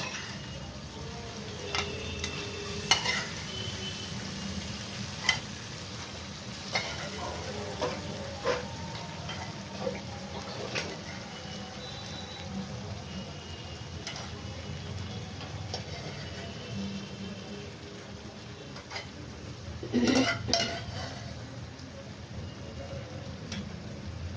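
Chana dal is stirred and sautéed in spices in a pan. A low steady sizzle runs throughout, and a spoon scrapes and ticks against the pan now and then, with a louder stirring burst near the end.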